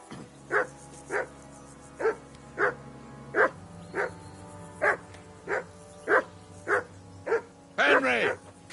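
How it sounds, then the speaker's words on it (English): Repeated dog barks from Kingdom Come: Deliverance II, about a dozen evenly spaced loud close barks with a steady low hum beneath, ending in a longer, messier burst of barking or growling. "Call off that damn dog before he wolfs down the last of our mates."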